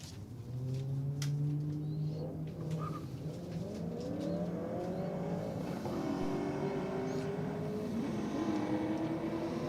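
Holden Commodore and VL race cars launch off the line at a drag strip, the VL spinning its tyres. A steady engine roar rises in pitch as they pull away, moderately loud, with no talking.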